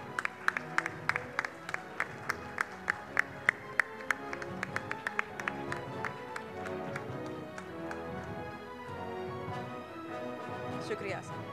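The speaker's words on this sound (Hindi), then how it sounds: "तालियां रुकनी नहीं चाहिए।" Audience applause at a political conference session on stage, beginning with sharp, spaced rhythmic claps in unison that quicken and then blur into a sustained, dense round of clapping.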